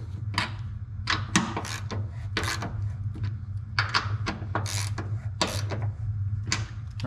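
Bolts on a master cylinder brace are tightened on a Honda S2000. Rapid ratchet clicks come in bursts close by, with short pauses between them, over a steady low hum.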